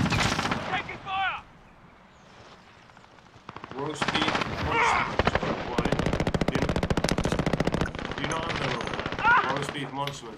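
Automatic and rapid gunfire in the video game Call of Duty Warzone, loud bursts and sustained rattling after a quieter gap, with players talking over the shooting.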